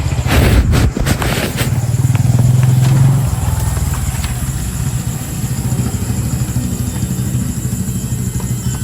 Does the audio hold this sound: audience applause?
no